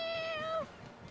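Cat meowing in the video game Tales of Berseria on Cat Island: a single clear, drawn-out meow that bends downward, close and alone over faint background ambience.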